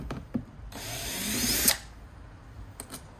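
A power drill whirs steadily for about a second during an old iMac teardown, close and loud, with a rising whine and a sharp peak before stopping, framed by a few light clicks and taps.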